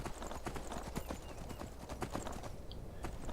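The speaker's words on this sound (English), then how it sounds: "Clamber your horse over the ruins." Horse hooves clip-clop in a steady walking rhythm in the video game Skyrim, a close, fairly loud series of hoof strikes over ruins with faint ambient background and no talking.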